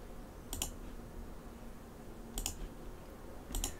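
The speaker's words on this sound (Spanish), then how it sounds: "Damos clic a siguiente." Computer mouse clicked three times at slow, even intervals, each a faint, close double tick against a quiet background during a Linux virtual machine setup.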